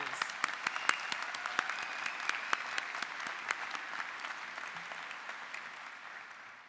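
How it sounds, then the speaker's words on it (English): Audience applause from graduates and guests at a graduation ceremony in the Royal Festival Hall, a dense, steady wash of many clapping hands that carries on for several seconds before slowly thinning toward the end. "give yourselves a round of applause"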